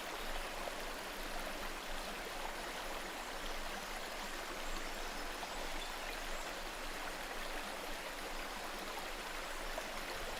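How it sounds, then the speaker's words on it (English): Monsoon rainwater cascading down the slopes of the Ghats, a steady broadband rush of falling and flowing water that holds evenly for about ten seconds with no voices. "Rainwater cascades from the Ghats."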